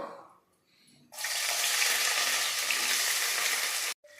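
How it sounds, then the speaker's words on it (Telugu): Three medium onions, finely chopped, hit hot oil with a sudden loud, steady hiss. The sizzle holds for about three seconds, then cuts off abruptly, after a quiet stretch with faint clatter. "వీటిని ఈ నూనెలో వేస్తున్నాను"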